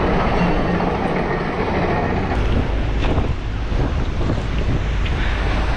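Super Typhoon Odette (Rai) makes landfall on Siargao Island with a relentless, loud roar of storm wind buffeting the microphone, a dense rushing howl with no letup.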